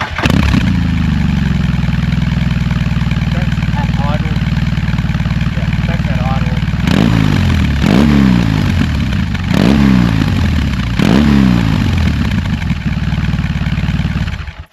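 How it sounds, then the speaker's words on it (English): A BMW R18 Classic motorcycle engine cranks and starts, settles into a loud, close idle, then revs sharply four times in succession before dropping back to a steady rumble. "This bike sounds awesome"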